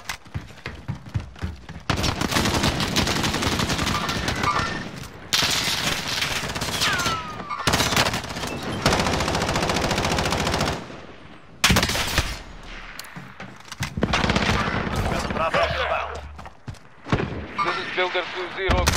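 Gunfire in Call of Duty Warzone: sustained automatic assault rifle bursts in long stretches broken by short pauses, loud and close, with game voice callouts and player talk mixed in.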